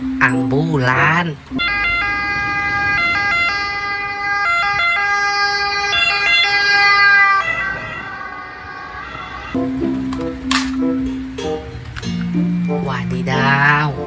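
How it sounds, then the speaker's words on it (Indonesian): An ambulance siren blares loud and near in a steady, sustained tone, bracketed by brief bursts of other sound effects and voices. "Ambulan."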